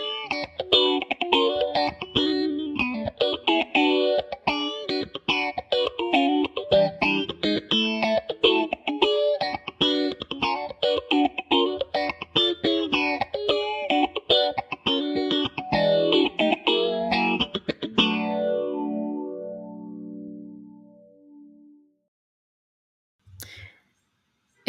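Electric guitar played through a chorus modulation pedal, a shimmering, wavering chorded passage that rings steadily for about eighteen seconds, then fades into a decaying tail and silence, with a faint brief sound near the end.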